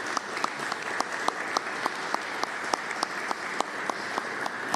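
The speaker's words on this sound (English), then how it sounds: "give these guys a big round of applause." Audience applause for first responders at an FBI press event, steady clapping with sharp individual claps standing out at an even rhythm, moderately loud and sustained.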